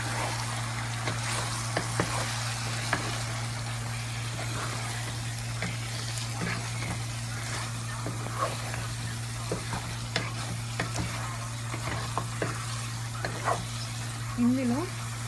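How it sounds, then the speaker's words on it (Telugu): Chicken curry sizzles in a pan as it is stirred after chili powder goes in, a steady frying hiss broken by repeated spoon scrapes, with a low hum underneath and a brief voice near the end. "కారం, వేసుకొని ఒకసారి తిప్పాలి."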